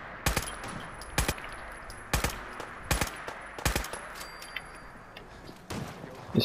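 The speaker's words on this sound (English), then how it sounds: "When I hear gunshots and stuff, who are these people?" Scattered sharp gunshots in Fallout 4, single loud cracks every second or so over a faint background hum, with no voices.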